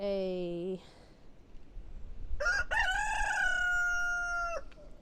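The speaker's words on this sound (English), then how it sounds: "We have a new rooster, Ranger." A rooster crows twice in a garden, loud and close, each call a long drawn-out cock-a-doodle-doo separated by a short pause.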